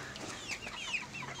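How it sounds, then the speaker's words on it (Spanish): Five-month-old Carioca and white chickens cluck softly in short, uneven bursts, faint and at a moderate distance, with no voices. "Y aquí están los pollos de 5 meses."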